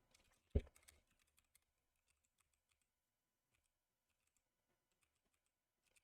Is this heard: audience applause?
no